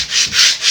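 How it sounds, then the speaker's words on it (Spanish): Hand sanding of a wooden desk with sandpaper, being distressed for a vintage Nordic look: three steady back-and-forth rubbing strokes, close and fairly loud, with no voices. "bueno, pues es lijar"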